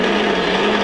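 A blender pulses a brownie smoothie of chocolate, almond extract and ice, giving a loud, dense, continuous whirring grind for a short burst with no break.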